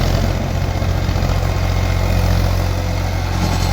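A tractor with a rotavator clears mature papaya plants from a field, its engine a loud, steady close drone with heavy low rumble and no pauses.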